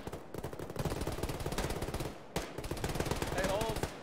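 Dense automatic gunfire from the military simulation game Arma, rapid rhythmic bursts running almost continuously with a brief break midway, loud and close.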